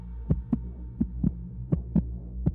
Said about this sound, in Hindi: मेरा दिल जोर जोर से धड़कने लगा